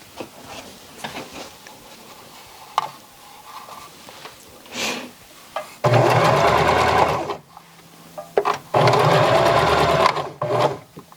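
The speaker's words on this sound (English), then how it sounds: "I'm just going to turn this over about 1/4 inch and stitch along there" Sewing machine stitching the turned quarter-inch hem of a T-shirt sleeve, running in two loud sustained bursts separated by quiet handling noises and brief pauses.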